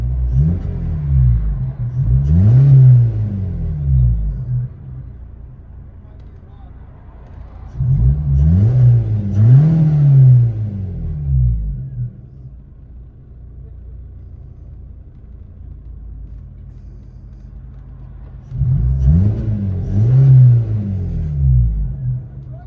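A 1998 Geo Metro's 1.3L engine with a resonator and automatic transmission, heard from inside the car, rises and falls through three separate rev bursts over a steady low idle drone.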